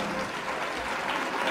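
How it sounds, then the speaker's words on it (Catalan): Audience applause at a fashion show, a brief, full burst of many people clapping steadily at close range. "Fort aplaudiment, sisplau!"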